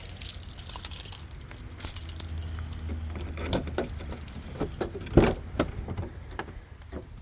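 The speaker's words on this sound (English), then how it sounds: "Let me unlock the truck for you guys." Keys jangle and clink close by while unlocking a truck, in several bursts with a sharp metallic click near the end over a faint low hum, no talk.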